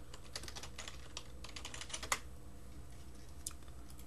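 Fingers typing on a computer keyboard, a quiet run of close, crisp key clicks in an uneven rhythm, with one sharper tap near the middle.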